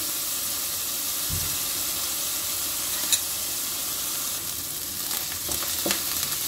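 Chopped garlic with green chillies and ginger sautés lightly in hot oil for chicken veg macaroni, giving a loud steady sizzle throughout, broken by a low thump early on and a few sharp utensil taps toward the end.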